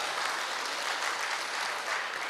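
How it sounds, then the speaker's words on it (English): Audience applause at a Rotary Club membership and public image seminar, continuous hall clapping from a crowd, steady and fairly faint, with no talk over it. "Let's give a round of applause to Major General Butt."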